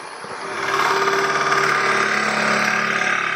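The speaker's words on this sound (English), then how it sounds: "now when I start up the lathe and push that against the drill, it will drill on center" A lathe whines and grinds steadily, its motor noise rising to a loud, continuous drone as it drills on center into a wooden spindle.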